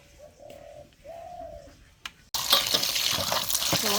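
A dove coos twice quietly in a village setting, then water suddenly gushes and splashes loudly and close as bottle gourd leaves, beans and potatoes are washed together, with no talking.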